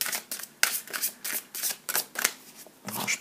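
Tarot cards shuffled by hand in quick repeated riffles and slides, about a dozen crisp papery bursts close to the listener in a quiet room, with no talking.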